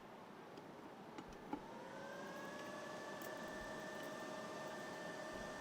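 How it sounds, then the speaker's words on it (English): Cooling fans of an EcoFlow portable power station spinning up beside a kettle in a large air tent during rain camping, a steady whirring hum with rising tones that settles into a continuous drone. "So now you're going to hear the fans from the EcoFlow kick in."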